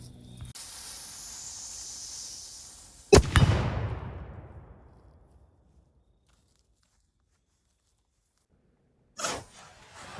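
A large domed diabolo pellet striking a steel plate: one sharp metallic clang that rings and fades over about two seconds, then near silence, with another brief noise at the end.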